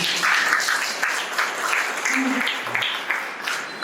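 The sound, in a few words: audience clapping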